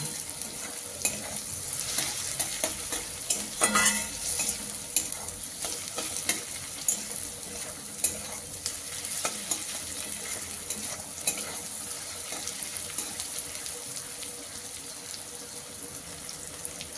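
Onion and tomato are stir-fried in a pan for a green-pea ghugni. Soft, quiet sizzling runs throughout, punctuated by regular light clicks and scrapes of the spoon.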